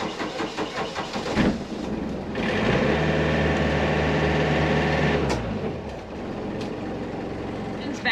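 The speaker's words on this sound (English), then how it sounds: "Let's try starting the engine." A sailboat's engine cranks on a low battery, then catches and runs as a steady low rumble for a few seconds before dying down. Some background noise sits under it, and no one speaks.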